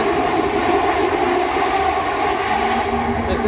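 A train in Malaysia rumbles past continuously, a loud steady roar of wheels and carriages filling the whole stretch.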